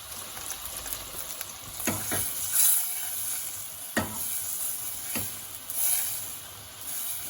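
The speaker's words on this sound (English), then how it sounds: "Stir it, because make sure all the butter is melted." A white sauce with melted butter stirred in a pan for a green creamy pasta: a soft continuous sizzle and hiss, broken by a few sharp scrapes of the spoon against the pan, no speech.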